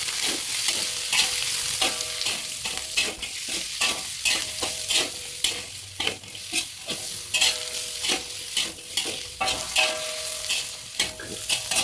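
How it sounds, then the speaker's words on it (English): Tofu, garlic, sawi stems and carrots stir-fried together in a pan for vegan chow mein, with steady sizzling and frequent scraping, stirring clatters of a utensil against the pan, close and continuous. "she's cooking her tofu in together with the garlic"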